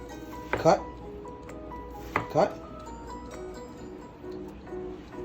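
A knife cuts through watermelon to trim it into slices, giving two firm, close chopping strokes about a second and a half apart over a low steady background hum.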